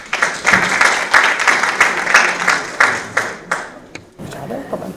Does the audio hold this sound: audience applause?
yes